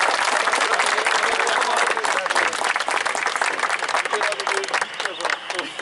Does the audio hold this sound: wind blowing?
no